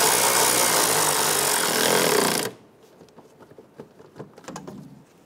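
A power tool whirs loudly for about two and a half seconds, snugging a plastic nut onto the fender liner stud of a 2012-2020 Chevrolet Sonic, then stops, leaving faint clicks and handling noises.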